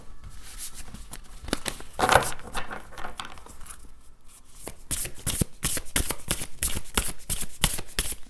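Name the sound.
tarot cards being shuffled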